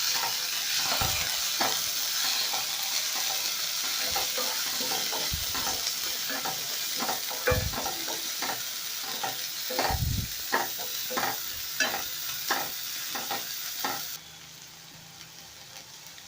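Green peas being stirred and fried in a pan with oil, a steady sizzle under repeated scraping strokes of a spoon, close, until the frying noise drops off near the end.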